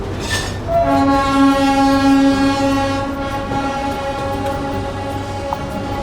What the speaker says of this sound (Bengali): ঠিক এই পয়েন্টটায়, এই জায়গাটায় এসে টয় ট্রেনটা ঘুরে তারপরে যায়।